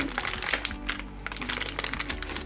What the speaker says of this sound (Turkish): Açıyorum paketi açıyorum ve filtre çıktı